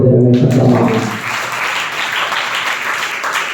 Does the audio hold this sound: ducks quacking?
no